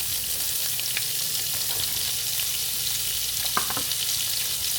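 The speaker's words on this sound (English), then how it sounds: "let's throw some onions in there" Onions frying in a pan with bacon for a migas breakfast give a steady, close sizzle throughout, with a few light scrapes of stirring and no talking.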